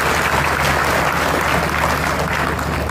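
Audience applause during an Independence Day speech honouring hospital staff, a loud, continuous roar of clapping, steady and unbroken, filling the hall without audible talk.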